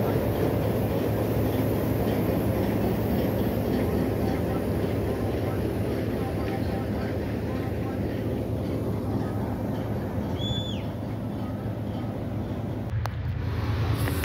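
A train led by an HBU-20 locomotive rumbles steadily past Mankiala railway station, a continuous low rolling drone of wagons with a brief horn-like tone near the end and a sharp clatter just after it.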